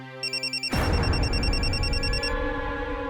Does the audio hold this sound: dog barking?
no